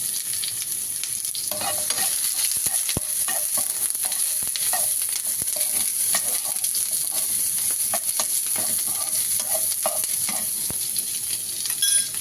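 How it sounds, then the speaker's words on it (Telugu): Garlic and onions fry in oil in a pan, a constant close hiss of sizzling broken by frequent clinking spoon-and-pan stirring taps, no voices. "ఇప్పుడు అలాగే వెల్లుల్లి ఫ్రై అవనిద్దాం ఫ్రెండ్స్"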